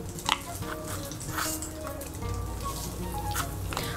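Nigella seeds and slit green chillies sizzle in hot fish-frying oil in a wok, a close bright hiss with a few scraping stirs and light clinks of a pan over a low hum.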